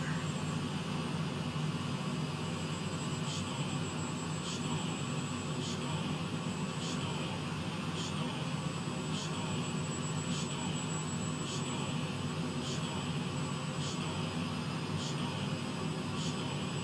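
An aircraft engine in a flight simulator video game drones on as a steady, faint, continuous hum, with a regular soft ticking repeating roughly every second on top of it.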